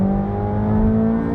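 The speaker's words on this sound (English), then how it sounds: "One more downshift." A Corvette C8 Z06 engine hums with a steady, loud, close drone during a dual-clutch downshift, a sustained tonal note with little change in pitch over a brief moment.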